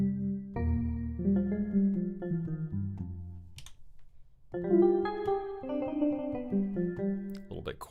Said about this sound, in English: one of the other sounds I've set up here is soft E piano